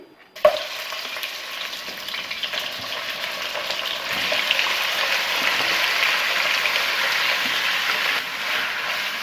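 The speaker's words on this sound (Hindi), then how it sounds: "चिकन को ऑयल में इस वक्त तक कुक करना है जब तक इसका कलर चेंज ना हो जाए" Chicken pieces fry in about four tablespoons of oil in a karahi, a sharp initial sizzle when they hit the pan settling into a continuous loud hiss that swells midway, with occasional stirring scrapes and no voices.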